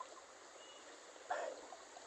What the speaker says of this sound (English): This wall pushes the water back, creating this low pressure zone, which made this little waterfall here.